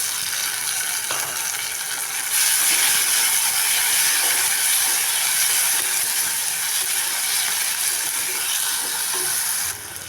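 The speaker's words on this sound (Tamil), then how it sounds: "இப்போ தக்காளியை சேர்த்து வதக்கிக்கலாம்." Onions and tomatoes sauté in a pan for a fish curry, giving a loud, steady sizzling hiss that swells after a couple of seconds and holds, then drops off briefly near the end.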